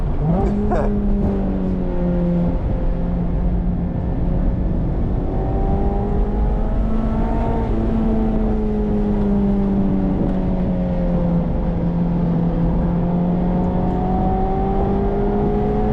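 A Mazda Miata ND3 engine revs steadily while driving on a track, its pitch rising and falling with shifts close to redline, loud and continuous throughout with no talk.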